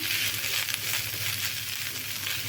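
Potatoes fry in hot oil with a steady, loud hiss of sizzling, while a spatula stirs them with faint scraping throughout.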